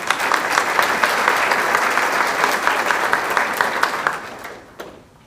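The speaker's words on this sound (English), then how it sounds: "So please, let's give her another round of applause." Audience applause at a scholarship dinner, a dense, steady burst of clapping from a crowd that rolls on for about four seconds before thinning out and fading to quiet.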